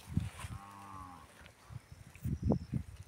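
Cattle grazing in a damaged corn field give one drawn-out, droning moo close by, surrounded by scattered thumps and rustling movement.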